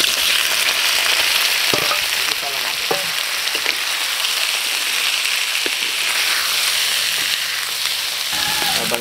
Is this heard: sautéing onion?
yes